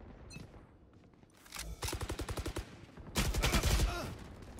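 Rapid automatic gunfire in a Valorant team deathmatch: two separate bursts of evenly spaced shots, the second louder and denser, over a low, quiet background.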